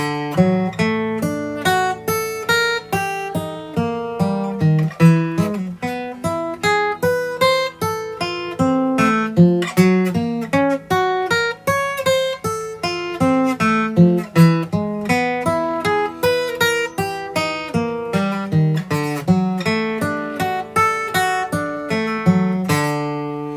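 Solo guitar plays a steady stream of picked single notes in a repeating, even pattern, clear and up close with no voices.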